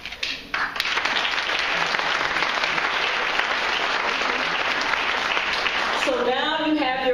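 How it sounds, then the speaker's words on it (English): Sustained applause from a graduation audience fills a hall, loud and steady throughout, with a voice briefly audible near the end. "I just want to applaud you all."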